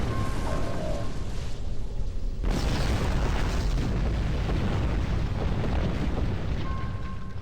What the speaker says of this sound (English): Judging by that explosion